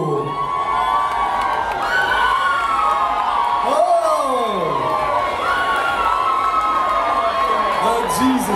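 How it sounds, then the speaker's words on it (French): A crowd at a grand premiere show cheers loudly with whoops and shouts, a dense, steady roar of voices and some clapping filling the whole stretch, with a few rising whistles or yells standing out above the din. "Je vous demande d'applaudir, mesdames et messieurs"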